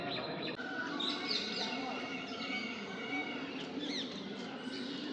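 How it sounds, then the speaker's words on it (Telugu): Peacocks call on the grounds of the Brihadeeswara temple, a UNESCO World Heritage site, sending up scattered, fairly faint calls over steady outdoor background noise. "ఇక్కడ ఎక్కువగా నెమళ్ళ కిలకిల రావాలు మనకు వినబడుతూ ఉన్నాయి."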